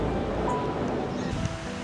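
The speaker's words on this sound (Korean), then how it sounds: "연금정이란 명칭은 파도가 바위에 부딪힐 때 나는 소리가" Ocean waves wash and break against the rocky shore at Yeonggeumjeong in Sokcho, a loud, continuous roar of surf with wind rushing across the microphone.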